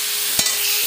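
Whole spices crackle and sizzle in hot oil, tempering for a cauliflower curry: a steady close hiss with one sharp pop near the middle, very short.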